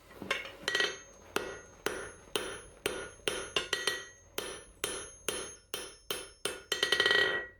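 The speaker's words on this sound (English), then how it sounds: "So we're gonna flatten it out." A hammer flattens hot steel on an anvil while forging a bottle opener, giving a steady train of loud, ringing metallic blows about twice a second, close and uninterrupted by speech.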